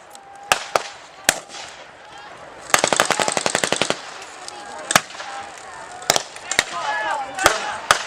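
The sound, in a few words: light machine gun firing, late Tommy gun version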